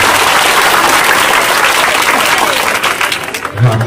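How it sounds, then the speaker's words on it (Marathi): An audience claps loudly and continuously at a 2024 inauguration ceremony for the Dr. Panjabrao Deshmukh birth anniversary festival, a dense wash of applause that thins slightly near the end. "फक्त लाडक्या भाऊ लाडक्या बहिणींसाठी टाळ्या वाजवतील."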